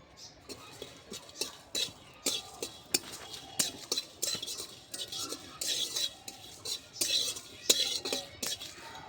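Cumin and coriander seeds are stirred and roasted in a pan over a clay stove, giving repeated close scraping and clinking of a spatula against metal in uneven bursts, with faint background noise.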